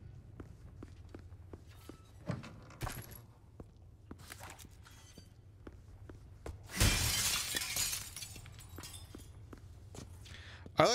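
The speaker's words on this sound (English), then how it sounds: "Destroys the glass." Glass smashing in the video game Resident Evil 4 Remake, a loud burst of shattering and tinkling shards after a run of regular footsteps, with a few softer knocks and a final sharp crack near the end.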